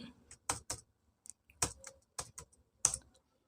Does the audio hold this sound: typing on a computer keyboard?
yes